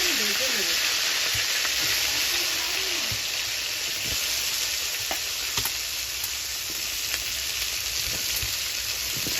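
Steady, dense sizzling of vegetables frying in oil and ghee for a broccoli dish fills the clip, with occasional soft clinks and scrapes over the crackle.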